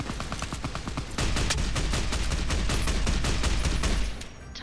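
Sustained rapid automatic gunfire from a modded PC game of Fallout New Vegas on hardcore difficulty, a dense barrage of loud overlapping shots that intensifies after the first second and cuts off near the end.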